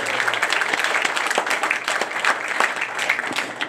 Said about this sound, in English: Everybody, give Terry Woodford a round of applause, please.